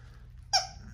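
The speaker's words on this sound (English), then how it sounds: "you squeaked my toy" A dog bites down on a squeaky toy, giving one short, sharp squeak about halfway through over a steady low indoor hum, with no talking.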